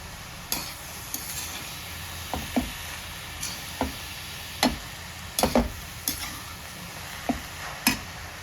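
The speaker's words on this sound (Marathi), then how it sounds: "आता हे सगळं मिक्स करून घ्यायचं मी" Grated carrot being stirred and mixed by hand in a cooking pan, with scattered light scraping taps and clicks at an irregular pace against a faint background hiss.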